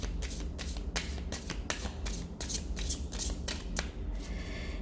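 Someone shuffles a manga-style tarot deck, a quiet run of crisp card riffles and flicks that repeat at a fairly even pace over a low room hum, close to the listener, with no talk.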